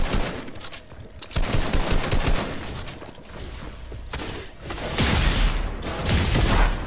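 The new SMG firing in Fortnite Chapter 2 Season 4, rapid bursts of loud automatic gunfire in close succession with short gaps, heavier reports toward the end, no talk.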